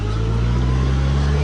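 A tractor stuck in deep mud after heavy rain strains with a loud, continuous low engine drone held at high revs, close up and steady, with no voices over it.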